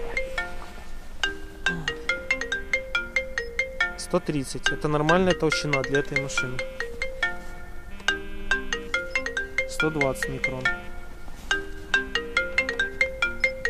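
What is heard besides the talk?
mobile phone ringtone ringing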